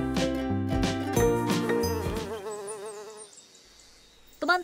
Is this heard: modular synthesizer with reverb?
no